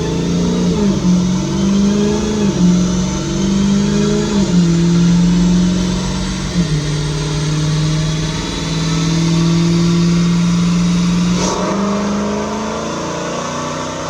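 Car engine under methanol injection revving hard through a dyno power pull, a loud sustained mid-pitched drone that climbs and dips in waves, with a brief sharp change near the end.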